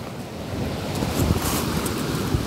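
Sea waves wash over a round-pebble beach at Lagoa on Graciosa in the Azores, a steady roar of surf with rattling stones and wind buffeting the microphone.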